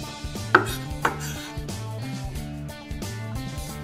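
Beef being cut into small bits with a knife, with two distinct chopping knocks and lighter cuts over a steady tonal background hum.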